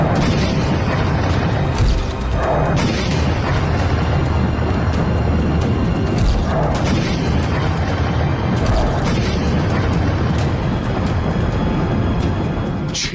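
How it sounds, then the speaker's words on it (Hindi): A large explosion from a Russian attack in the Russia–Ukraine war, heard as a loud, continuous roaring blast with repeated deep booms and rumbling bursts throughout. "देखते देखते विस्फोट का ये वीडियो सोशल मीडिया में ट्रेंड करने लगा।"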